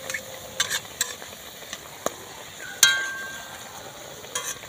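Semolina pitha, sweet suji cakes made with milk, fry in a little moderately hot oil: a soft sizzle runs underneath while scattered sharp clinks and scrapes of a utensil pop up.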